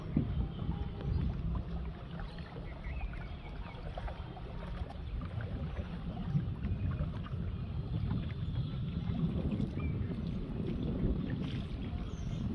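Small boat glides across village waters in rural Bangladesh, a steady low rumble and wash with wind noise on the microphone, continuous and fairly faint throughout.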